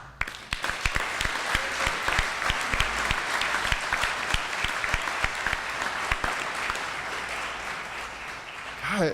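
Applause from the audience at a university master's hooding ceremony, a mix of many claps with some louder individual ones standing out, sustained throughout with some voices underneath.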